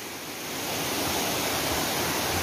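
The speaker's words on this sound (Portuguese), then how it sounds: "Essa daqui foi a segunda queda d'água." Steady roar of the second waterfall on the Rio de Contas, a broad continuous rush of falling water that swells slightly in the first half-second and then holds loud and even, with no voices.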